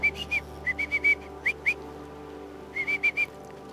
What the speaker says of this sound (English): Is that a little fish whistle?